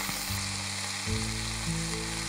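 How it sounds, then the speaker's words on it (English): Meat browning in oil inside a camp oven preheated over open coals sizzles steadily and loudly close up, a dense unbroken frying hiss with no talk. "Okay, step number one is to brown our meat."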